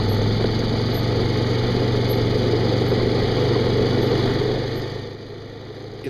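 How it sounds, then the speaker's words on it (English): Steady droning idle of an ATV engine driven slowly at an even speed while calibrating a boom sprayer, a constant loud hum that fades slightly near the end. "it took us 20 seconds to drive the ATV the 100 feet"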